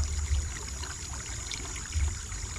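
Water gushing steadily out of the outlet of a small backyard tilapia fishpond, a continuous low rushing flow with occasional deeper surges, fairly close and without talk.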